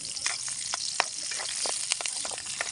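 Onion and garlic sauté in hot oil in a pan for squid adobo, giving a steady close sizzle with scattered crackling pops and a few stirring scrapes throughout, no one talking.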